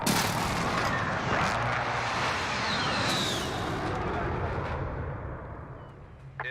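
A Call of Duty: Modern Warfare airstrike lands as a dense, continuous roar of explosions and rumbling blasts that holds loud for several seconds and then slowly tapers off.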